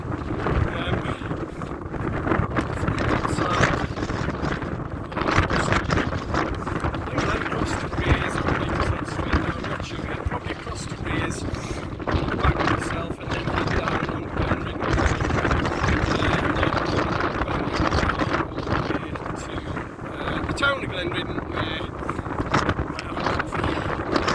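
Strong wind roars and buffets across the exposed summit of Helvellyn in the English Lake District, a loud, continuous rumble battering the microphone, with a voice speaking intermittently beneath it.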